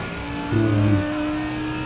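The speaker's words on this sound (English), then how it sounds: "hopefully you can still hear the quality of the engine and the game itself" An old Renault Clio engine in a driving video game: a steady, close, droning hum that swells briefly in a short rev midway before settling back to an even idle-like tone.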